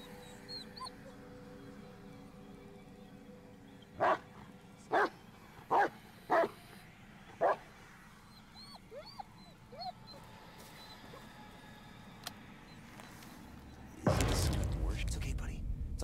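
A dog in the horror video game Blair Witch gives five sharp, evenly spaced barks followed by soft whimpers, close by against a quiet forest ambience, ending in a loud burst of noise.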